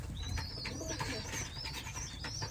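Young racing pigeons coo softly in a loft, with soft calls repeating at a steady, moderate level and no talk over them.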